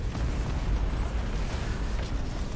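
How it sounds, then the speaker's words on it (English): A Nova Cannon shot explodes in the space battle game Battlefleet Gothic: Armada 2, a heavy, rumbling blast that rolls on continuously with deep bursts and crackle, loud and without speech. "Let's get another Nova Cannon shot right there"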